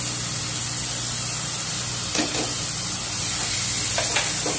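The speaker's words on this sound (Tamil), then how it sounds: "பாருங்க இப்போ இந்த மசால் இப்போ நல்லா வதக்கணும்." Masala with chilli powder frying in oil for chicken biryani, a steady close sizzle with a couple of brief scraping stirs partway through and near the end.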